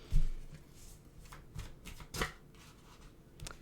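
Tarot cards being shuffled by hand, a few soft riffling bursts and taps spread out over a quiet background.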